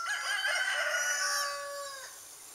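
Backyard chickens in a coop of about fifteen or sixteen birds give a single drawn-out, rising and falling crow-like call, loud and close with no talk.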